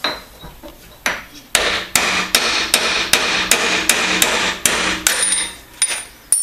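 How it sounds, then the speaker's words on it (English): A hammer strikes repeatedly to knock a broach out of a vise in a home machining shop, about a dozen loud metallic blows in a steady rhythm, close and clear with no talking. "back it off, then knock the broach out."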